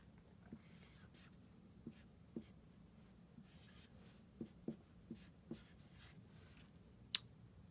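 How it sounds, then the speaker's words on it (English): Pencil writing an addition sentence in a quiet classroom math lesson, heard as a few faint, sparse scratches and taps against a low background hum, with one sharp click near the end. "I'll write one also."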